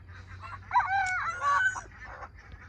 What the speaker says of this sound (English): that orange red one over there is the only one that's attempting to crow, and it's not going very well